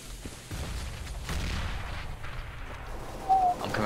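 A grenade blast in the shooter game CS:GO: a deep, rumbling boom rolls out over a steady low background of gunfire-like thuds, moderately loud and with no voices.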